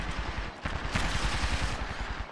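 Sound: gunfire in the video game Apex Legends

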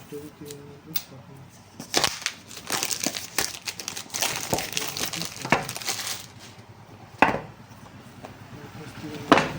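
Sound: unboxing Redmi 13 5G phone, opening packaging covers

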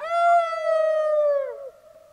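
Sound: person imitating a dog

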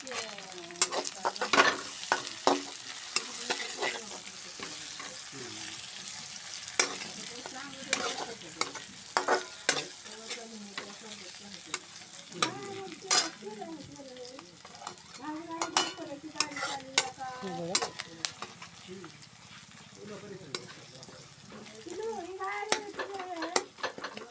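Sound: curry leaves frying in oil for samosa filling

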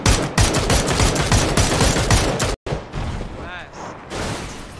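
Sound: gunfire in a shooter video game

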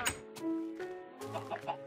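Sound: chicken clucking in the video game Minecraft

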